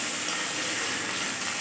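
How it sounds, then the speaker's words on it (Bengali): Onions frying in oil with a little salt give a loud, steady hiss and sizzle once water is poured in, a close, continuous steamy rush with no break and no talk. "এই দেখুন পেঁয়াজের মধ্যে জল দিয়ে দিলাম"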